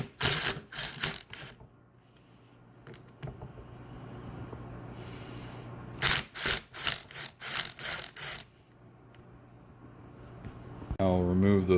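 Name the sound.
driver with 1/2-inch socket loosening bolts on Polaris front diff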